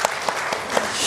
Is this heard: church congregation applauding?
yes